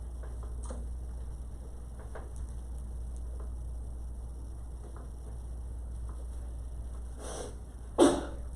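A single sharp sneeze bursts out near the end, preceded by a softer one, in a quiet classroom during a timed math exercise, over a constant low hum of the room.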